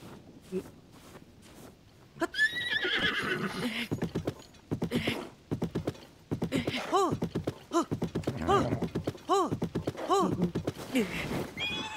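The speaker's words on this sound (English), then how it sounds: "That's a very pretty horse. It's a golden horse." A golden horse in Zelda: Tears of the Kingdom, repeated whinnies and neighs with hoof clip-clops and snorting, fairly close, with people talking over parts of it.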